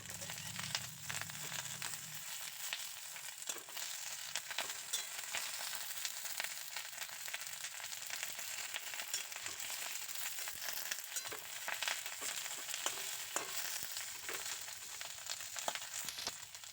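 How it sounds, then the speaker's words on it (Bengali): Hilsa fish frying in a covered pan, a continuous even sizzle with fine crackles running steadily at moderate volume, with one softer low rumble at the very start. "এক পাশ থেকে মাছগুলো ভাজা হয়ে গেছে এবার অন্য পাশটা উল্টে দিয়ে আবারও মাছগুলোকে হতে দেবো"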